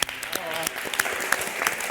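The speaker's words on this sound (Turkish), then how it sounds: "O zaman mavi takımı alkışlayalım." Studio audience clapping for the blue team on a televised cooking competition, a short burst of applause with scattered sharp claps and a voice over it.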